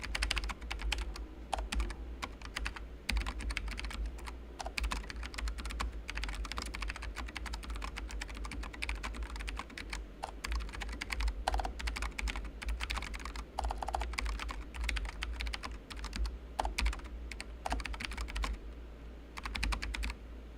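Steady computer keyboard typing during a live coding session on a React, TypeScript and Go project, with continuous rapid keystrokes close to the microphone over a low background hum for the whole stretch, and no talking.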